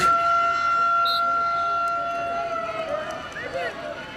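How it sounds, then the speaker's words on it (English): A steady wailing fire department siren tone holds in the background while a crowd at a college lacrosse game murmurs and people talk over it. "Hear the sirens."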